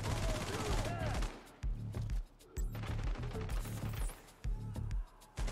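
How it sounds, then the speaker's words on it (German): Enemy gunfire in The Division 2, loud rapid automatic bursts broken by short pauses, close and punchy, with voices speaking between the volleys. "Ah ja, schießen auf mich."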